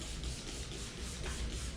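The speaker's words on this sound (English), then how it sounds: "What I'll probably do is go back again with the squeegee and just get it" A squeegee rubs over Stek DYNOflex protection film on a windscreen, making a soft continuous close-up rubbing and hissing with faint shuffling.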